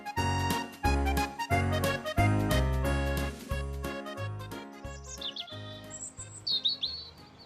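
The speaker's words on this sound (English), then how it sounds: "The sun was shining and the birds were singing happily." Birds chirp with bright short tweets near the end of a cheerful tune for a children's tractor story, the bird calls faint and rising over the fading music.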